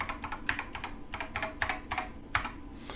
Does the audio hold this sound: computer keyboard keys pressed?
yes